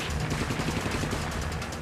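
An artillery and gunfire barrage rumbles on with dense, rapid bursts of shots and booms that blur into a continuous roar. No voices are heard.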